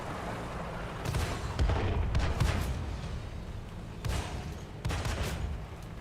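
Heavy, muffled artillery shelling in the World of Tanks console game, several deep booms rolling in and fading over a constant low rumble, fairly close and without voices.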